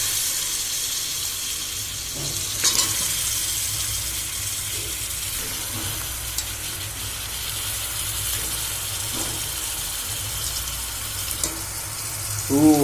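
Pieces of goat mutton go into a pan with ginger-garlic paste and fry, giving a steady broadband sizzle and hiss with a few clinks and stirring knocks, without any talking.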